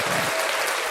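A crowd claps in a round of applause during a podcast interview, with dense, continuous clapping that stays steady for the whole brief moment.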